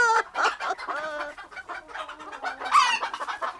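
Hens cluck and a rooster calls near a henhouse in a fairy-tale setting, a busy run of close, loud clucks and squawks with no talk over them.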